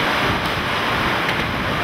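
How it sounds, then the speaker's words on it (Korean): Strong wind and heavy rain in a storm over Havana, Cuba, a dense, loud roaring wash of gusts and downpour with no voices. "오후 들어 강한 바람이 불어오더니"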